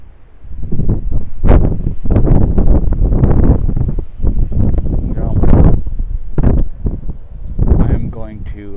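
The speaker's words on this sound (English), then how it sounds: "Wind's picking up here." Strong gusts of wind batter the microphone outdoors, producing loud rumbling buffets that rise and fall over several seconds, with a voice briefly heard among them.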